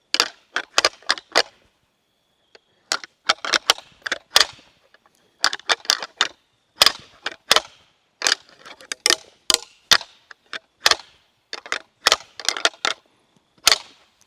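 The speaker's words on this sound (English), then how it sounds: "And when I rattle, I like to make an initial like clash, like a really loud pop" Sharp clacking and grinding of deer antlers rattled together to call whitetail deer, irregular bursts of hard clicks and rattles separated by short pauses, close and clear.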